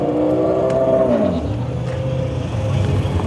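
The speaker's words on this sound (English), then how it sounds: "Here's another red R34 GTR on the LMs again." A red Nissan Skyline R34 GTR V-Spec at a GTR festival car park, its engine rising in a short rev then falling away into a lower steady burble, fairly close with no talk.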